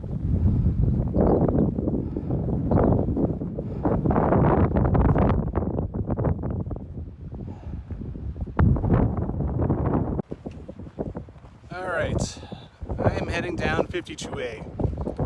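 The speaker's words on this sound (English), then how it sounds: "It's windy and cold up here," Strong gusty wind on a Rocky Mountains hiking trail roars and buffets the microphone almost continuously, rising and easing, with a voice heard at times.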